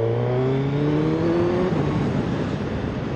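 A 2021 Suzuki Hayabusa motorcycle engine on a small road, a loud steady drone with rising tones as it pulls and shifts, continuous and close, with no talking.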